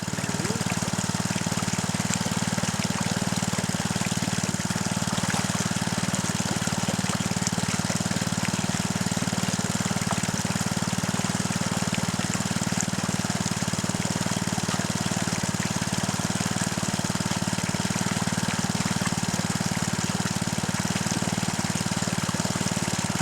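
A gold dredge engine runs at a steady drone, loud and unbroken for over twenty seconds, with a constant mechanical hum and rattle and no speech heard.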